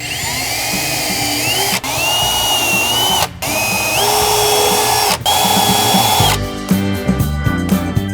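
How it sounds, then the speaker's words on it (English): A power drill whines steadily, its pitch dipping and rising as it bores an 1/8 inch pilot hole into wood, with a few brief pauses and a rougher grinding finish. "Just gonna drill an 1/8 inch pilot hole."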